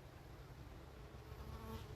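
Honeybees swarm around an open hive during a beehive inspection, giving a steady, faint, dense buzz with no speech over it.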